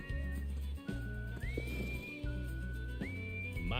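Horse neighing in the video game Live A Live, heard over loud game music with a sustained whistling tone, repeated a couple of times across a few seconds.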